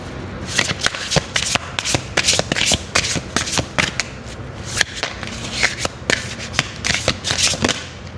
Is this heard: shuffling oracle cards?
yes